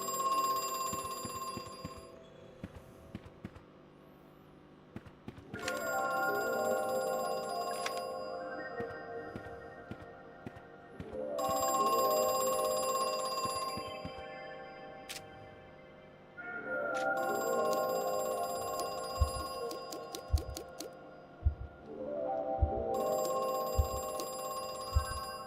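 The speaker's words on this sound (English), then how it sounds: "There's no phone that I could see in here, though." A telephone bell rings in a video game, repeated bursts of bright, insistent ringing separated by short gaps, fairly loud and alone with no talk over it.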